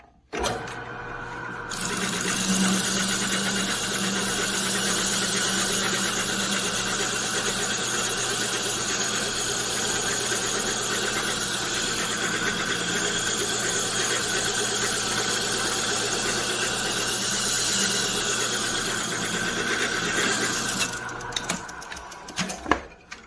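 A large sanding drum fitted with 3M Cubitron discs runs continuously on a convex wooden curve, a loud, steady whirring grind that holds for about twenty seconds before winding down.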